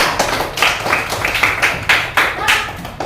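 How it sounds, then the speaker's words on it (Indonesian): A classroom of students applauds a group with loud, close, rhythmic clapping in quick bursts. "tepuk tangan untuk kelompok"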